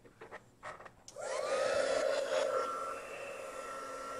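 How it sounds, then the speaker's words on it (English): A small hair dryer switches on after a few light clicks and runs with a steady, close whirring hum for several seconds. "You can use a hair dryer. I have a small one"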